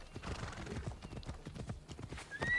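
Horse hooves clip-clop in a fast galloping rhythm in Assassin's Creed Odyssey, with a brief whinny and faint game sounds around them and no clear speech.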